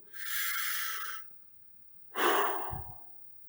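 Two long forceful breaths blown out through the lips as if blowing out a candle, close and breathy, separated by a short pause.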